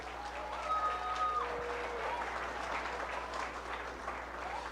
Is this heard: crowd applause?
yes